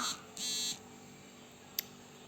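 A phone gives off an SMS notification sound: two short electronic beeps a moment apart, then a tiny click, faint against a quiet room.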